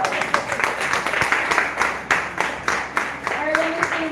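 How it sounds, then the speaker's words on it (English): An audience claps for Miss English, a room full of hands beating in a rough, semi-rhythmic pattern, moderately loud, with voices audible underneath toward the end. "We need to give Miss English a big round of applause."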